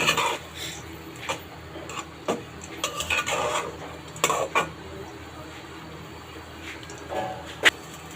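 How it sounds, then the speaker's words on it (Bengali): Mung dal and rui fish head being stirred and fried in a pot, with repeated sharp scrapes and clinks of a spoon against the metal at an uneven rhythm over a low background hum. "মাছের মাথার সাথে মুগ ডালগুলো ভালোভাবে মিশিয়ে আরও কিছুক্ষণ কষিয়ে নেব"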